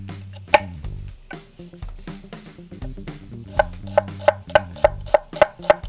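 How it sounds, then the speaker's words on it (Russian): A knife finely dices onion on a cutting board: scattered cuts at first, then a steady run of sharp, evenly spaced taps, close and clear. "Взять немного лука. Нарезать его очень тонко."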